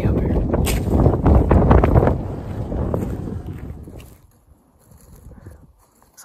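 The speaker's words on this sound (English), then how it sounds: "It's pretty windy" Strong wind buffets the microphone in loud, roaring gusts on a mule deer hunt, gradually easing off into quieter rustling.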